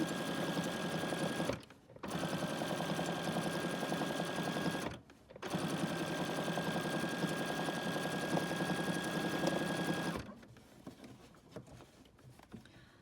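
A Bernina sewing machine stitching an appliqué in flat polyester thread runs in a fast, steady close whir, stopping briefly twice before halting near the end, with no talking.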